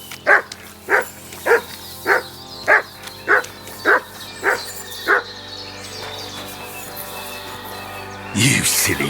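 A dog in the video game Kingdom Come: Deliverance 2 barks nine times in a regular, evenly spaced series of loud, close woofs, then falls quiet before a short rustle at the end.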